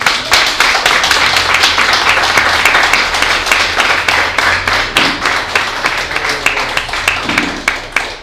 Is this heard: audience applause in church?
yes